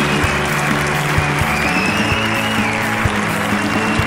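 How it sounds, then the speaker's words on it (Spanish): Steady broadband applause from a television comedy show audience, with music or a band playing underneath, continuous throughout at moderate loudness. "Fuerte aplauso para Tony"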